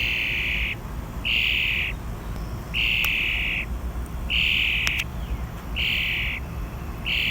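An injured wild bird gives a run of about five evenly spaced, shrill calls, each lasting roughly half a second, close and clear over a steady outdoor hiss, with no talking.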